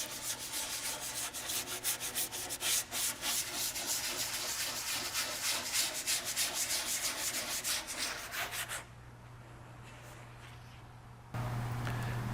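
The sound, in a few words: sanding van capsule surface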